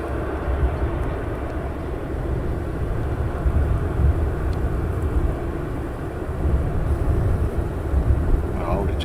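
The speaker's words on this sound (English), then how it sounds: "Nice landing there." A steady, loud jet airplane roar as a plane lands at Amsterdam Schiphol Airport, a broad rumbling wash of engine and air noise that holds evenly without letting up.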